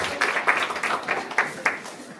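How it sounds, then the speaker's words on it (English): Audience clapping for the Red Coats group at a school presentation, a short, light burst of applause from a small crowd, close and uneven, with a few louder claps standing out. "Let's give them a round of applause."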